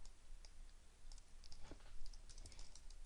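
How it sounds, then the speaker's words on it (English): Computer keyboard typing with scattered key clicks in an uneven rhythm, close and fairly quiet, entering a label in a form's properties panel in Flash Builder design mode. "I am typing"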